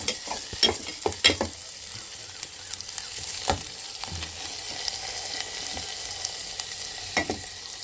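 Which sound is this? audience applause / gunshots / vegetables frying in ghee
vegetables frying in ghee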